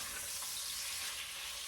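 Kielbasa sausage, already fully cooked, browns in a hot pan with a steady, loud broadband sizzle that holds evenly throughout with no voices.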